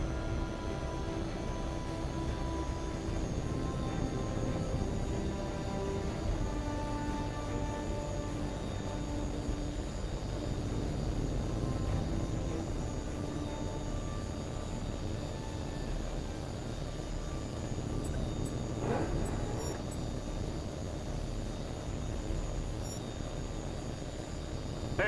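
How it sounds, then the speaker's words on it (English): A fighter jet taking off in the video game H.A.W.X. 2, a loud, continuous engine roar holding steady throughout with a brief sweeping rise near the end. "You're clear for takeoff."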